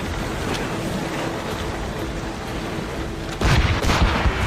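Naval cannon fire from a sailing warship in Assassin's Creed Rogue, with loud booming blasts rolling over a constant roar of wind and sea, growing heavier and closer toward the end.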